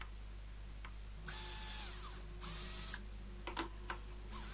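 A small drill boring holes in the central circles of a tensegrity model: two short, shrill whirring bursts followed by a few light clicks, over a steady low hum.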